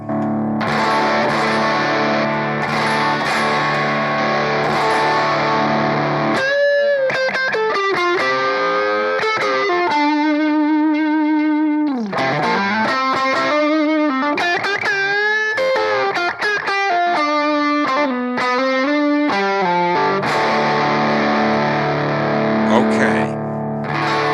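A sustained, heavily overdriven Fender Telecaster through a BOSS GT-1000 high-gain amp model plays bending, wailing notes with thick distortion and some reverb, loud and continuous throughout.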